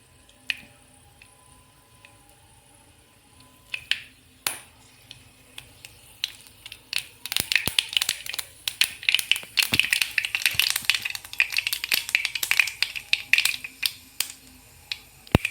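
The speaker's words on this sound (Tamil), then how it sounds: "கடுகு நல்லா பொரிய விட்டுருங்க" Mustard seeds splutter in hot oil, starting with a few isolated pops and building into a dense, rapid crackle of sharp little bursts, close and loud, without talk.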